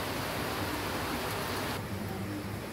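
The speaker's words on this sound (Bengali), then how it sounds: "মুষলধারে বৃষ্টি পড়তেছে বাইরে।" Heavy rain pours down outside as a dense, continuous hiss of steady loudness throughout, with no voices.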